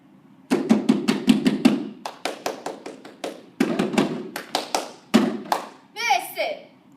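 Hands clap in crisp rapid bursts during an HHS basketball cheer, sharp close slaps grouped in rhythmic runs with short pauses, while young voices chant along in between.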